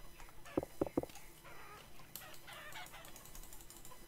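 Chickens in the video game Vintage Story give a short burst of clucks near the start, then fainter scattered calls and rustling over a low hum.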